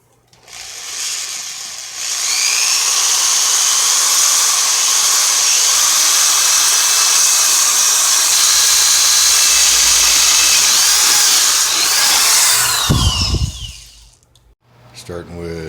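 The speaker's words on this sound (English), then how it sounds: "Half-inch spade bit." A drill boring with a half-inch spade bit, held steady as a loud, close, sustained whine for about ten seconds, then spinning down with a clatter as the bit comes free.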